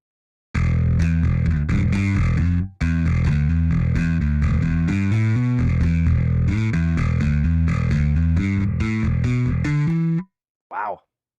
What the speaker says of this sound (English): Wow, that's some beefy bass tone there.